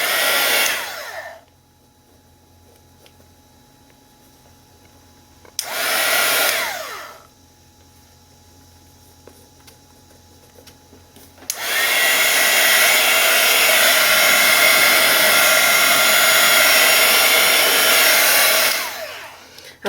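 A heat dryer roars in three bursts while drying paint on an art journal page: two short blasts, then a long steady blow of several seconds, loud and close with a harsh, even hiss.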